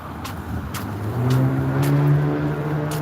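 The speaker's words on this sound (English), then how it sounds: "That's a loud car, it's not fast." A car engine idles loudly and revs up, a deep steady rumble rising in pitch, close by with no talking.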